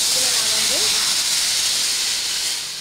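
A steady, loud hiss of water heating in a pan fills the clip, broad and constant, with a few faint tonal squeaks early on.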